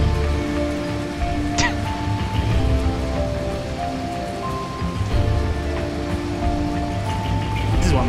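Steady rain falling on surfaces in the Silent Hill: Downpour video game, a dense continuous hiss with scattered droplet patter and a faint distant rumble, with occasional tonal game sounds.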